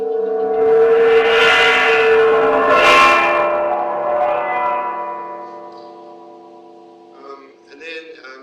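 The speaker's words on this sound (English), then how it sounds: "So I'll just play you some sort of gong-like outputs." Synthesized gong-like tones from a physics-based 3D simulation with spatialization ring out loud and sustained, swelling with shimmering overtones before slowly decaying. A few softer metallic strikes follow near the end.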